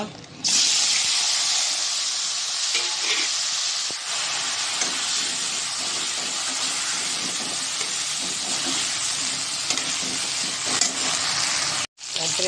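Cut potato and cauliflower fry in hot oil with a steady, close hiss and sizzle that runs almost unbroken, with a few stirring scrapes and a brief drop near the end.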